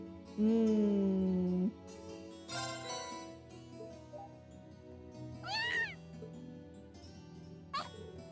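A cat meows several times in the video game Trails of Cold Steel, with one long, loud meow near the start and shorter meows later over soft game music.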